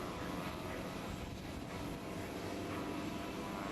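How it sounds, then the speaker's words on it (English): A twin-engine 1943 Beechcraft flies at an air show, its engines producing a steady, loud broadband drone that holds evenly from start to finish with no voices. "This is a twin-engine Beechcraft"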